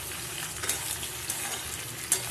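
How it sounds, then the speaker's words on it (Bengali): Potato pieces fry in a pan of oil for Kashmiri aloo dum, a quiet, steady sizzle with a few small pops and crackles and no talking. "আলুগুলো আমার ভাজা ভাজা হয়ে গেছে হালকা করে"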